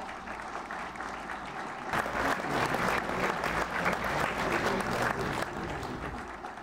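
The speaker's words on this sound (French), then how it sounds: "Je vous demande d'applaudir chaudement, encore une fois, tous les lauréats des examens d'État." At an International Day of Education ceremony, an audience warmly applauds the state exam laureates: steady applause from a large crowd that swells and grows louder after a couple of seconds, then holds, with no one speaking.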